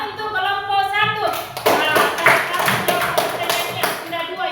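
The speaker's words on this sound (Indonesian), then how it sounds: "Ya, tepuk tangan untuk kelompok 1." Classroom applause for a student group during an Islamic jurisprudence lesson, a brief burst of hand clapping from many people, fairly loud and dense, with voices mixed underneath.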